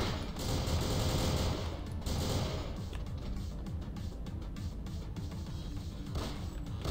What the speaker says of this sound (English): Automatic fire for the win.